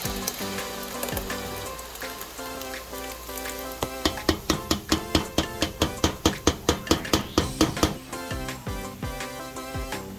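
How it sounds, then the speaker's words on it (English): A pepper blend hits a hot pan and fries with a busy, crackling sizzle that builds into a rapid series of sharp pops and spatters, close by with no voices. "I'm gonna be adding the pepper blend."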